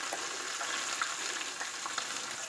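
Sausage sizzles steadily in a pan as McCormick's Country Gravy mix goes in, a dense continuous frying hiss with small pops and crackles throughout, close and fairly loud with no talking.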